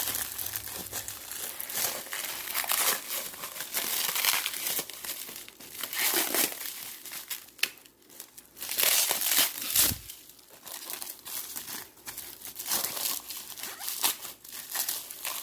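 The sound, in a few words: crinkling plastic packaging being removed from new intake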